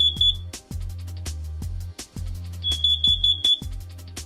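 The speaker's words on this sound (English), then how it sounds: "If the internal sensors detect unusually high levels, a sharp alarm noise will be triggered." A shrill, high electronic carbon monoxide alarm on a boat beeps in quick bursts, heard over a loud rhythmic thumping backdrop, with the beeping pausing and then returning.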